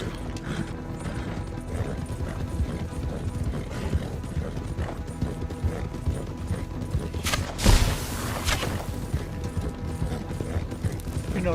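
Horse hooves clip-clop in steady rhythm inside a video game, mixed with game mechanisms and a brief louder burst near the middle, with someone talking over it.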